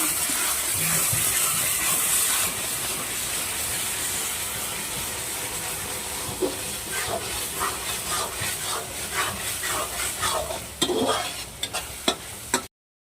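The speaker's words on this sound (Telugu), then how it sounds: "ఇలా కలుపుతూనే ఉండాలండి, లేకపోతే మాడిపోతుంది." Spiced food with homemade garam masala sizzles and hisses in a pan while a utensil stirs and scrapes repeatedly, the scraping growing more frequent toward the end.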